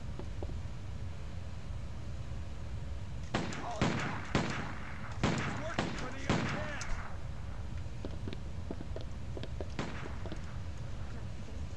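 Several sharp gunshots go off in a quick cluster in the zombie video game Stubbs the Zombie, with a few fainter shots after them, over a steady background of game noise.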